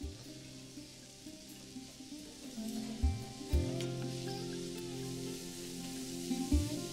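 Tomatoes and spices cooking in a pan over a medium flame, a soft sizzle under a faint hum, broken by a few sharp clanks of a spoon stirring the mixture.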